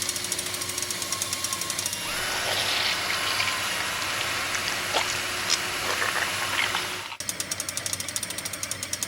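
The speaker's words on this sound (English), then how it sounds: "This drill will go straight through the wheels and the body of cucumber car." A drill bores through a cucumber to make the wheels and body of a toy car, giving a steady, close grinding whir that holds for several seconds, then cuts off abruptly and restarts.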